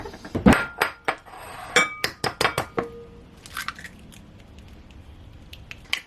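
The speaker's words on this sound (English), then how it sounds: "I'm going to crack some eggs into the bowl" Eggs cracked against a spare bowl and into a mixing bowl, a string of sharp close taps and clinks with short gaps, busier at first and then thinning to a few light knocks and a faint shell rattle.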